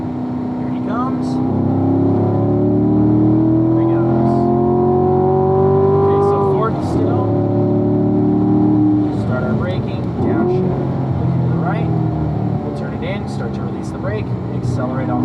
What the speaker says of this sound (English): we're going to pull over so the car right behind us can pass now